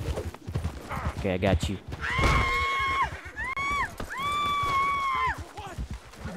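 A horse in the open-world western game Red Dead Redemption 2 whinnies loudly several times and clatters off with hoof clip-clops, while someone talks over the sounds.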